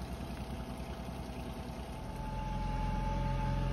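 A Honda 25hp outboard motor on a small boat idles steadily after warming up, a continuous low, even drone close by that grows slightly fuller near the end, with no talking.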